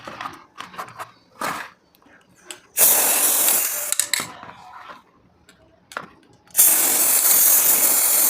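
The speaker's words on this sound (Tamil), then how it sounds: "ரொம்ப டிஸ்டன்ஸில் வச்சு தான் நம்ம ஸ்ப்ரே பண்ண போகிறோம்." Gold spray paint sprayed from a can at a distance onto a handmade bridal veni: two long, loud hissing bursts, broken up by clicks and handling sounds in between.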